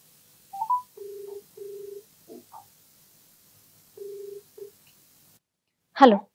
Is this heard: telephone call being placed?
yes